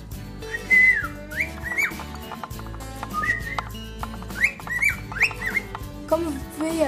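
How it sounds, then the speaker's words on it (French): A pet bird trapped inside a wardrobe whistles and sings, with bright rising and falling whistled phrases and chirps repeating over a low background hum. "Il a même envie de chanter."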